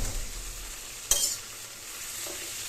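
Jackfruit frying in a kadhai gives a steady soft sizzle, broken once by a sharp scrape of stirring, then the hiss carries on evenly, with no voices.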